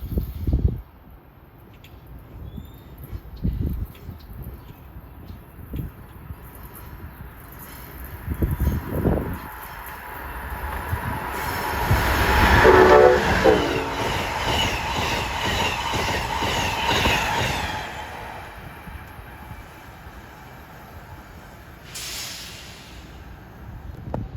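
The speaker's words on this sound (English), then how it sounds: "Here comes Amtrak 193 from New York to Washington at 6:15." Amtrak passenger train from New York to Washington passes through Princeton station; rail clatter and wheel clicks build to a loud, close rush with screeching and tonal horn-like bursts, then fade over about twenty seconds.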